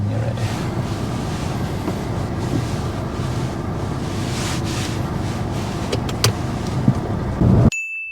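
A car drives along during a driving test, with steady road and engine rumble plus wind buffeting throughout, a few brief clicks near the end, then a sudden cut to near silence.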